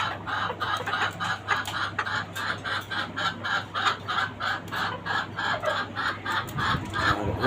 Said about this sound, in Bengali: এটা হচ্ছে ফার্মি মোরগ এবং মুরগির ফ্যামিলি।